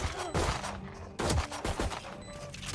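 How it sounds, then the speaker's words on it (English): Glock pistol fire in a competitive online shooter game, several sharp shots in quick bursts with loud broadband cracks and brief gaps between volleys. "And shooting with a Glock"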